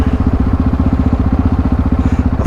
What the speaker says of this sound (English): Look at me, I got a diesel bike with exhaust system.